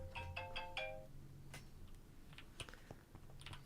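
A phone ringtone chimes in a few short repeated tonal bursts at the start, fairly faint, followed by quiet scattered clicks and handling noises with no talking.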